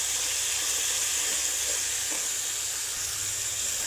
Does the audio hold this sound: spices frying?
yes